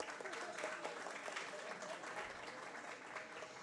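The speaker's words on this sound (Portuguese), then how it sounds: "Uma salva de palmas ao Carlo." Applause from a crowd at an executive board meeting, honoring a guest named Carlo Barbieri; steady, fairly faint clapping throughout the short stretch.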